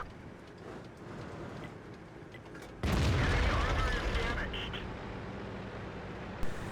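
A World of Tanks WZ-131 on Lakeville fires its tank gun, giving one heavy booming blast followed by a long rumbling decay, with a commentator talking throughout.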